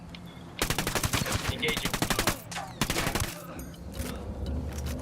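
Gunfire in Ghost Recon Wildlands set in Bolivia: loud, rapid automatic bursts in two long strings separated by a short pause, with scattered quieter shots trailing off and a brief spoken word over the shooting.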